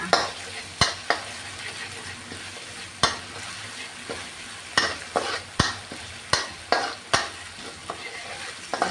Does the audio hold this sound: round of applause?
no